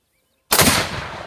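A tannerite charge detonates when struck by a .22 rifle round outdoors: silence, then a single sudden, very loud blast that rolls off into a rumbling, crackling decay.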